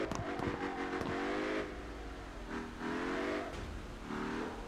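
BMW car engine in the CarX Drift video game, revving and accelerating through rising and falling pitch sweeps, steady and fairly loud, with no talk over it.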